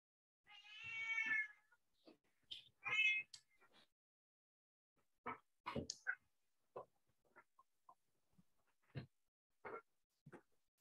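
A pet cat meows several times up close, drawn-out and tonal, then a few short higher calls, followed by scattered soft clicks and taps in an otherwise quiet room.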